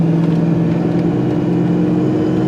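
Foxbody Mustang cruising on the road, a loud, steady engine drone with low rumble and road noise, constant and close without any rise or fall.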